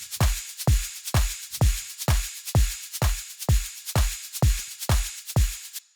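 Synthesized drum loop built in Phase Plant with its group processing on, a steady, punchy pattern of about a dozen evenly spaced deep kicks, each with a bright snappy attack, alone and upfront.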